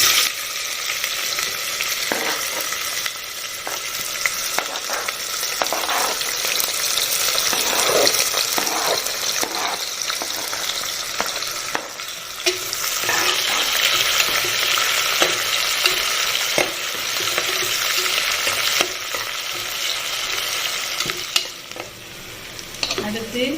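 Onions fry and get stirred in a pan with cashews already in, a loud continuous sizzle with repeated spatula scrapes and clatters throughout, close up and without talk.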